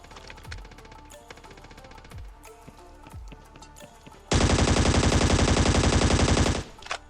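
Gunfire in the battle-royale game Scarfall 2.0 on the Andaman map: a few scattered single shots and thumps, then a loud, sustained burst of rapid automatic fire lasting about two seconds.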